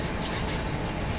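A tram rolls along its tracks between West Croydon and Wimbledon in the Train Simulator 2019 game: a steady, loud, unbroken rumble of wheels and running noise with no talking.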